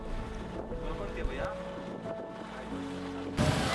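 A houseboat cruising on the Alleppey backwaters, with a continuous low engine and water rumble under heavy wind buffeting, faint tonal squeals, and a louder gust near the end.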